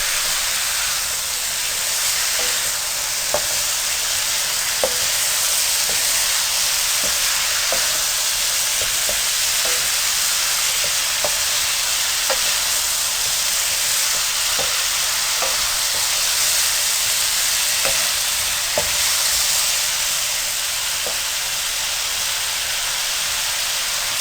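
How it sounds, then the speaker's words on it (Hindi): Chana dal roasts in a pan with a continuous loud dry sizzle, broken by regular light taps and scrapes of a spoon stirring throughout, close and without talk. "अब आप दाल को भूनें, लेकिन चम्मच चलाते हुए एहतियात करें दाल के दाने टूटे ना"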